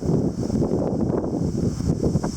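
Strong wind from a trough during a summer thunderstorm buffeting the microphone, a constant low roar with gusty rumbling throughout, no voices.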